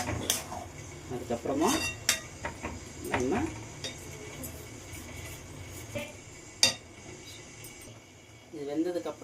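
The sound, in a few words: tomato puree poured in and sautéed for pasta sauce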